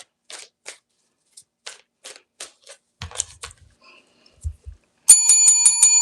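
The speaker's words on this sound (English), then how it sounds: "I release your energy back at the ringing of the bell" A small bell rings out near the end, bright and sustained, following scattered taps, clicks and soft handling noises in an otherwise quiet room.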